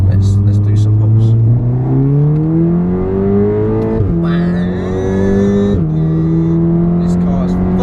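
Stage 1 VW Golf R tuned to 380bhp pulling hard through the gears, its engine note climbing loud and close with a brief shift dip midway, with a voice speaking over the roar.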